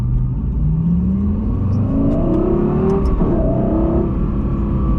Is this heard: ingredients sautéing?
no